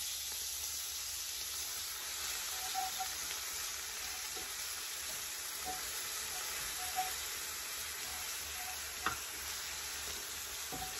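A cream sauce with mushrooms and onions, finished with calvados, simmering and sizzling in a pan, a quiet continuous hiss with a couple of faint scrapes of a utensil.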